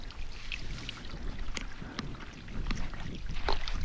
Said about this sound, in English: So I just got this tinkling stream,